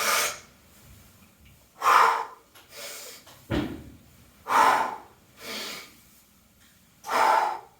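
Sharp, forceful breaths taken during kettlebell squats, several distinct inhale and exhale bursts spaced a second or two apart, close and fairly loud with quiet gaps between.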